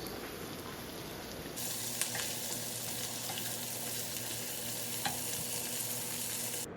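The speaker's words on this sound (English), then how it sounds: "we're just going to mix in the seasonings and let it saute for a few seconds" Seasonings sauté in a pan for Dominican-style stewed chickpeas, giving a steady, close sizzle throughout with a few sharp clicks of stirring.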